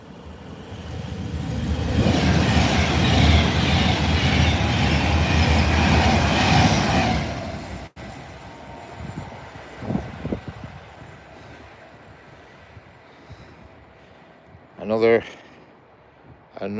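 A Pendolino train rushes past nearby, a loud broadband roar lasting several seconds before cutting off, followed by quieter trackside sounds and a voice speaking.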